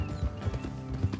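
Horse hooves clip-clop in a quick, uneven rhythm on a hard surface in the video game Red Dead Redemption 2, a few close, hollow knocks repeating over a brief moment.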